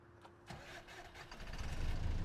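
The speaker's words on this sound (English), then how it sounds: "That engine startup sounds good." An Alexander Dennis Enviro E200 bus in the Omsi 2 simulator cranks and starts, rising from a quiet click into a steady, growing diesel rumble close by.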